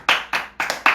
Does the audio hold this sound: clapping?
yes